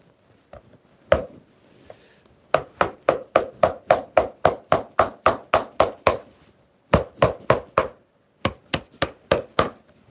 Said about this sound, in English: And then just hammer the seams, one then the other.